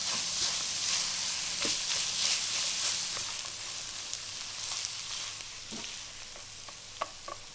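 Indonesian sweet and spicy tempeh frying in a pan, a constant bright hiss of hot oil with occasional soft scrapes and taps from stirring, no voices.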